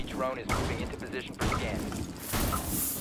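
Gunfire in the tactical shooter Rainbow Six Siege, with several sharp shots fired in bursts under the gameplay audio, and people talking over it.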